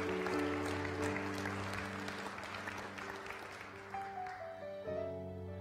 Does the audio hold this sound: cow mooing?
no